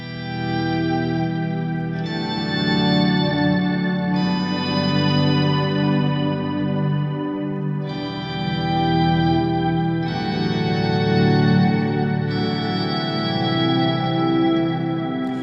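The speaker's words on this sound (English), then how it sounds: "I'm going to add most of the times long delay, some reverb, and then a lot of sub-octave and octaves up" Sustained guitar swells soaked in long delay and reverb, with heavy sub-octave and upper-octave effects, rise and fade in broad overlapping waves roughly every two seconds, loud and alone without talk.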